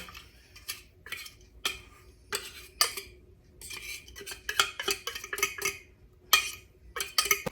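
A metal utensil scrapes and taps against a bowl while preparing a mayonnaise-based appetizer, giving a run of sharp, irregular clicks and scrapes close by, with no talking.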